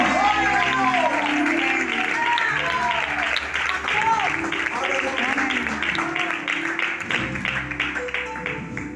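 Congregation at a Spanish-language church service clapping loudly together, a dense steady wash of applause mixed with shouts and voices calling out throughout.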